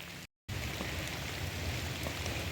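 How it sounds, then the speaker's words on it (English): Steady rain falls outdoors on a worksite, a dense continuous hiss of drops on surfaces with a brief dropout near the start and no voices. "it's starting to rain pretty good"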